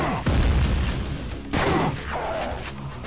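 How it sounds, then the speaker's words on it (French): Two heavy rocket launcher blasts from the video game Quake 2 boom out a little over a second apart, each a loud, deep burst that rolls off into a rumbling tail. "Il a tiré une roquette là, je rêve."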